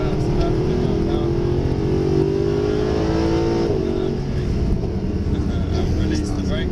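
Mercedes SLS AMG V8 engine pulling steadily as power builds, a loud continuous rising growl with tire and road roar, heard from inside while a voice talks over it.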